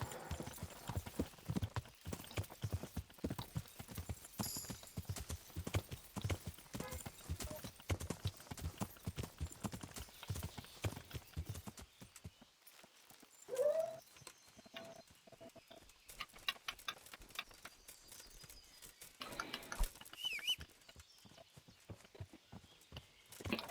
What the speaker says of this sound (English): Go, you fucking horse.